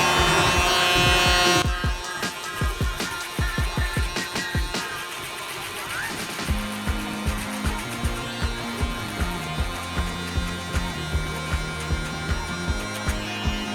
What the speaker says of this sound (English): let's go ahead and grab our shavers. Shave all of this stubble that's right here